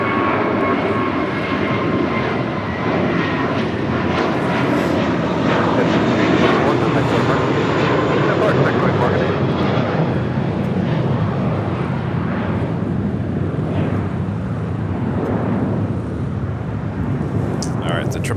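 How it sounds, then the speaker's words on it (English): A Boeing 777 takes off on runway 25 left at Los Angeles International Airport, its jet engines roaring loud and sustained, swelling then slowly easing as the aircraft rolls down the runway. "All right, the 777 now rolling down to 25 left."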